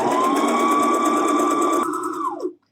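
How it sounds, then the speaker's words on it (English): A sewing machine runs fast and steadily as it stitches a seam on a fabric face mask, holding a constant whirring hum close by before slowing and stopping near the end. "I'm going to sew it exactly the way I sewed the one on the other end"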